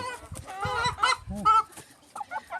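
A Thai street-fighting rooster clucks and calls in a short series of harmonic squawks, close and fairly loud, with a brief pause before softer clucks at the end.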